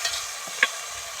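Chicken masala frying in a clay pot, a soft steady sizzle with a couple of light stirring scrapes and one brief sharp knock of the spoon.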